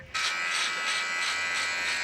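A compact Manscaped Lawnmower electric body hair trimmer switches on and runs with a steady, close, high-pitched motor buzz, heard alone.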